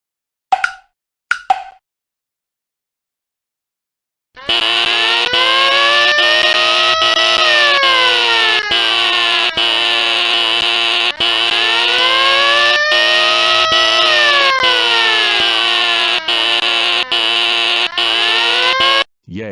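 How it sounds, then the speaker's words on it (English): A school fire alarm blares after being pulled, a loud continuous electronic siren with sweeping rising and falling tones that runs unbroken for about fifteen seconds after two short plops. "I'm going to pull the fire alarm."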